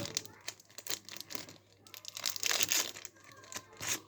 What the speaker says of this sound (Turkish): Dördüncü paketimizi açalım.